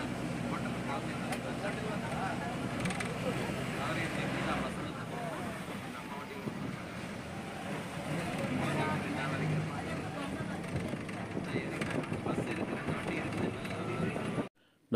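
Intercity bus pulling away from a roadside rest stop on the Mysuru–Coimbatore route, a steady, broad engine and road rumble heard from inside the cabin, continuous throughout with faint interior clatter.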